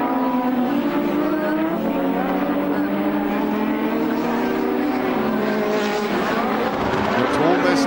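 1986 Formula One cars race at the British Grand Prix, turbo engines droning steadily at high revs with a shifting pitch as cars pass, heard under continuous commentary.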